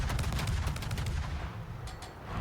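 Warship guns firing in the World of Warships game, a burst of rapid heavy shots in the first second followed by booming rumble that fades, with a couple of faint later cracks.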